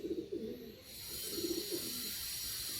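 Pigeons coo in a loft housing Andhra, Madrasi and Giribaz breeds, a few soft, throaty coos rising and falling close by over a steady background hiss.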